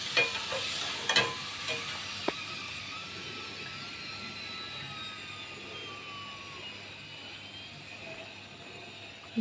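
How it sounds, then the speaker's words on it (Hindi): Golgappa puris deep-fry in hot oil with a steady, even sizzling hiss. A few light metal clinks sound early on, then the frying continues alone. "ये हमारे गोलगप्पे फ्राई हो चुके हैं।"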